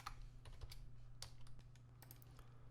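Quick, faint clicks of typing on a computer keyboard, a short irregular run of keystrokes over a low electrical hum.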